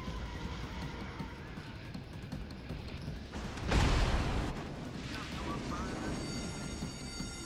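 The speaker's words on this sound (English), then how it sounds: "Good call, because he's firing on me" An enemy fires on the player in a video game battle: a single heavy blast booms up out of a low rumbling background, with faint distant shots around it.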